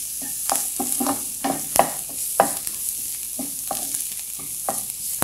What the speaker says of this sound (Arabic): انا دلوقتي شوحت البصل مع الثوم